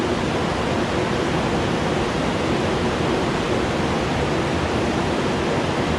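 River water at the Thwaites Mill weir rushes steadily and loudly as a broad, constant roar with no pauses and no voices.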